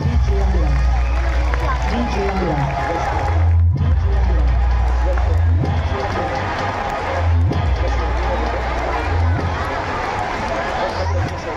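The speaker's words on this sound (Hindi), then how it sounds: "बच्चे जोरदार तालियां बजाएं, तालियां रुकनी नहीं चाहिए।" Children at a nursery and primary school function in Malegaon clapping loudly for arriving guests, a sustained burst of applause and cheering with crowd noise and a voice speaking over it.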